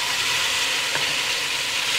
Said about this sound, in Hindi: गोश्त को थोड़ा सा भूनेंगे